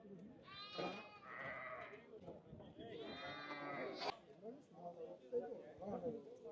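Sheep at a livestock market let out two loud, wavering bleats a few seconds apart, heard under steady talk and background crowd chatter.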